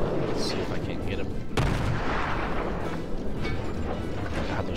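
Naval guns firing in the World of Warships game, a dense loud barrage of booming shots and rumbling blasts with one sharp crack partway through, continuous and close.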